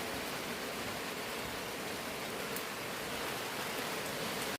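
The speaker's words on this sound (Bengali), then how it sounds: "ভীষণ ভীষণ বৃষ্টি, ভীষণ।" Heavy, steady downpour roars as dense broadband hiss, continuous and close with no break, while storm clouds gather and coconut palms bend in the wind.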